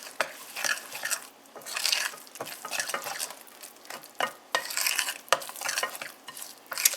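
A crumbly cheesecake crust mixture of flour being stirred in a mixing bowl, giving repeated scraping, gritty strokes with light clinks of a utensil against the bowl, close and steady with no talking.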